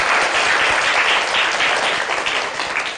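Children in a dharma school class clap together to cheer group number 5, a dense, steady round of applause that stays loud throughout and tapers slightly at the end.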